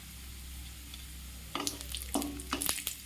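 Cashews fry in a kadai for basanti pulao: a soft, steady sizzle at first, then louder stirring scrapes and bursts of crackling oil in an uneven rhythm, close and fairly quiet, with no voices.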